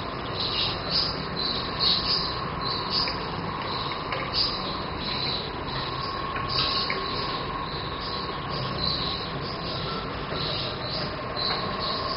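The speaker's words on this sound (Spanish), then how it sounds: "Unos grillos agudos" Steady, high-pitched chirping of crickets fills the scene, a continuous insect trill with a faint low rumble underneath.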